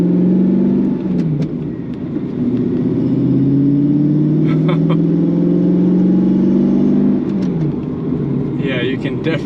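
A Mercedes C55 AMG engine with a custom cold air intake and no cabin filter in place drones and whines steadily while driving, a rising intake whir under the rumble, with a few faint clicks and taps.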